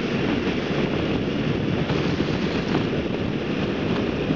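Strong wind roars over a motorbike's microphone as it rides a windy freeway. The buffeting is loud, close and continuous, with no talk.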